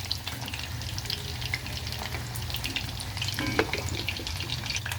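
Purple yam pieces frying in oil, a steady close hiss and crackle with scattered pops and occasional stirring scrapes, no voices.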